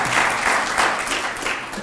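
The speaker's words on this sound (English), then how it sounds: "Let's applaud for that." Sustained audience applause fills a hall at a special alumni event at Pitzer College, a steady crowd of clapping hands at even loudness throughout, with no speech over it.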